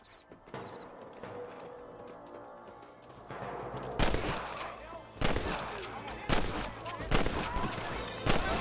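Gunfire in the video game Red Dead Redemption: a sharp barrage of loud cracking shots erupts after a quieter stretch, with repeated bursts over background game sound and some talk mixed in.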